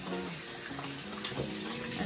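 Water runs from a tap into cupped hands during a face-washing routine, a soft, steady splashing flow heard close up and alone.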